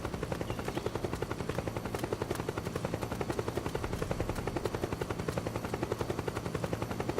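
A steady, rapid chopping drone of helicopter rotor blades in Metal Gear Solid 4, loud and continuous throughout with no talking.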